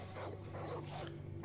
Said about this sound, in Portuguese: Sons de cães. Cães a ladrar.